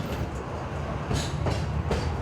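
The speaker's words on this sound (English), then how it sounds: "The train rolls into a long tunnel carved out of a mountain" A locomotive-hauled train rolling along the tracks, a loud continuous rumble with a few rhythmic clacks as wheels pass rail joints.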